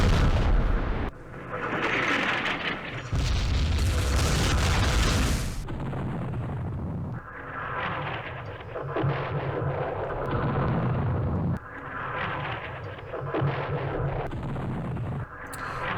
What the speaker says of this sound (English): So here's my preparatory artillery landing.